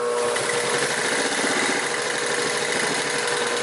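Singer 31-15 industrial sewing machine stitching heavy denim and marine vinyl, giving a steady, close motor whir with a fast, even needle rhythm that runs unbroken throughout.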